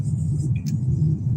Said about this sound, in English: Traffic is starting to be heavier here